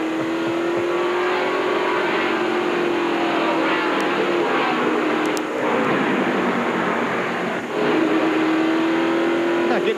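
A stock car engine in a 2001 NASCAR Cup race at the Chevy Monte Carlo 400, droning loud and steady under caution at low speed, with a constant engine tone that dips briefly and a crowd of cars roaring behind.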